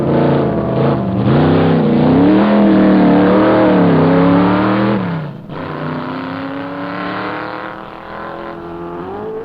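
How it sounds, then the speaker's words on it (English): A Formula Ford race car at the 1972 Knox Mountain hill climb in Kelowna, BC, accelerates hard, its engine note loud and close as it climbs through the revs, briefly dips near the midpoint, then pulls on steadily again. "now this Formula Ford with Dave Morris from Alberta."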